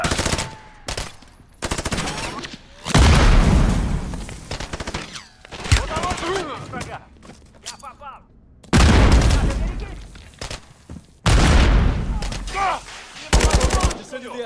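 Heavy automatic gunfire and booming shots in Call of Duty: Modern Warfare 3, coming in loud dense volleys separated by quieter gaps, with voices talking between bursts.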